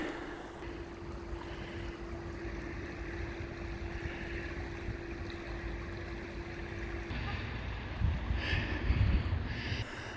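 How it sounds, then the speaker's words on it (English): A river flows beside the Upper Don Trail, a steady soft rushing wash with wind buffeting the microphone, swelling slightly louder near the end. "we've found the river again"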